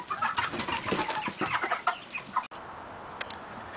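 Several Cornish Rock chickens cluck and chatter close by in a busy, overlapping stream, then the noise drops off to quieter background with an occasional cluck.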